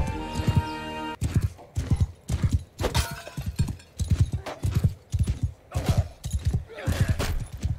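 Horse hooves clip-clop in the Mount and Blade Bannerlord video game, a loud, steady rhythmic gait of repeated hoofbeats, close and continuous, with a brief whinny-like tone at the start.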